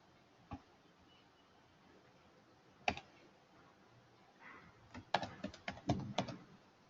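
Computer mouse clicks and keyboard typing while working in a Pega PRPC form: a few isolated clicks early, then a denser burst of keystrokes near the end, close and fairly quiet with no talk.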